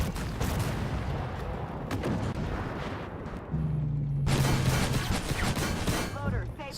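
Incoming artillery in the Armored Warfare tank game lands as a dense barrage of booming, rumbling blasts that swell louder midway and keep going under the game's mix.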